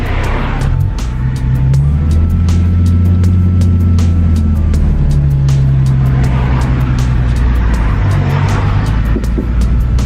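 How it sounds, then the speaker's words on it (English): Manual-transmission car engine idling and revving lightly as the clutch is let out slowly in first gear, a steady close low drone with rising and falling pitch throughout and no talk. "Tapping the gas and I'm letting out the clutch slowly."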